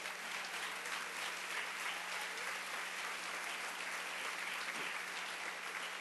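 A church congregation claps in praise during a sermon, an even, sustained roar of applause from a large group, fairly distant and unbroken, with a low steady hum underneath.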